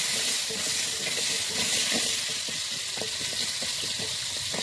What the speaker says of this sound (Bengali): ডাঁটাগুলো লাল লাল করে ভেজে নেব।